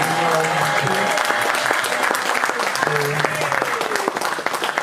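A church congregation applauding steadily and loudly throughout, dense clapping with voices and cheers mixed in, close and continuous.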